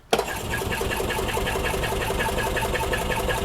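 A 2005 Club Car Precedent gas golf cart engine cranks over during a compression test, a loud, rapid, rhythmic chugging that kicks in abruptly and keeps a steady pulse throughout.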